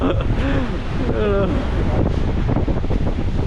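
Stormy surf on an island beach, with waves and gusting wind roaring steadily and buffeting the microphone, while people talk nearby.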